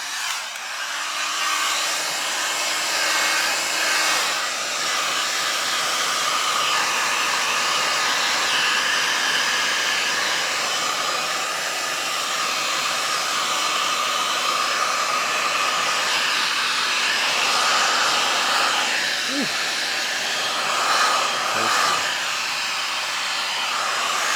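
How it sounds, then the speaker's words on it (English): A heat gun blows hot air to activate glue during van interior work, a continuous loud, steady whooshing drone held close for the whole stretch without talk. "we're going to use a heat gun and kind of activate all the glue and stick it real good"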